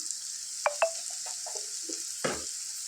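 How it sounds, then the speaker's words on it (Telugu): Potatoes and chana dal fry in a pan under a soft, steady sizzle, with a few quiet clinks and stirring scrapes and no talking. "వీటిని ఒక ఫైవ్ మినిట్స్ ఇలా ఫ్రై చేసుకుందాం పసుపు వేసుకుందాం"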